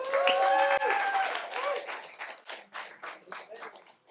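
Clapping from a library audience at a poetry slam, starting with a cheer or whoop, then thinning into scattered, separate hand claps that fade out.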